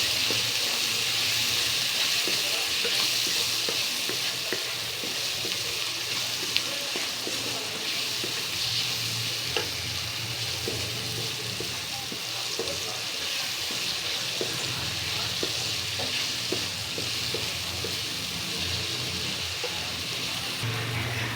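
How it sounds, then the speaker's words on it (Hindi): Ground spices, turmeric, coriander and red chilli, sizzle steadily in a pan while being stirred, a close continuous frying hiss with faint scraping and no talking. "अब मसालों को हम थोड़ा सा पकाएंगे।"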